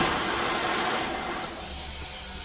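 Steady, loud rushing hiss of steam venting from a boiler blowdown on a 1922 Polson #70 steam locomotive, broad and continuous, easing slightly after a moment.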